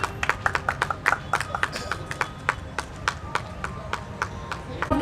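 Scattered clapping from a modest crowd at the opening ceremony of a handloom and handicraft expo and trade fair in Patna, distinct individual claps in an uneven rhythm over faint background murmur.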